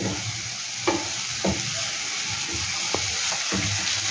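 A Bengali stuffing mixture for ash gourd, sweetened with a little sugar, fries in a pan with a steady close sizzle and scattered clicks from stirring; no one speaks.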